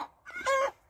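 A hen squawks loudly in a short run of harsh clucks, the calls a laying hen makes after laying an egg, standing out close and clear against a quiet background.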